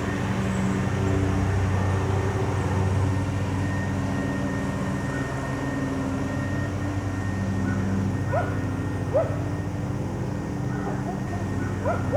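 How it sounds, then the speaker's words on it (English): Dogs barking in the distance around a suburban deer hunting spot, faint scattered yips and barks over a steady outdoor hum with a passing aircraft drone. "We've had dogs barking."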